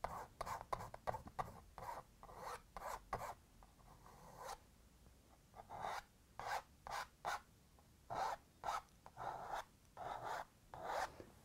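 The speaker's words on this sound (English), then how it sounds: "now I'm just scraping some of it off" Material scraped off a surface in short, rhythmic strokes, close and fairly quiet: rapid rasping passes at first, then a pause, then slower, evenly spaced scrapes.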